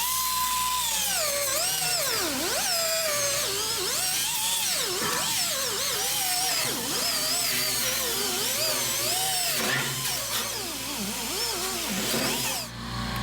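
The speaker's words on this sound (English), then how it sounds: "So what I went to do was went over and grind all that metal clean." Power grinder cleaning surface rust off bare metal on a '67 Camaro during a mini tub install, a loud continuous high whine that wavers and bogs repeatedly as pressure shifts, running almost the whole time.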